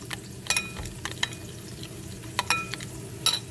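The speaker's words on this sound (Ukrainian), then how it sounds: "Все це розбиватиму, змішуватиму." Omelette batter of egg, flour and milk is whisked in a bowl with quick, uneven clinking strokes of a utensil against the side, several sharp taps over a soft background.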